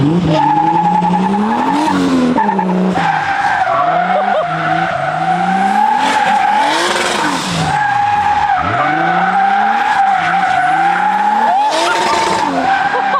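A 650 hp turbocharged BMW E36 accelerates hard with its tires spinning, giving a loud, continuous screech of wheelspin over a rising and falling engine drone, with people's voices briefly in the background.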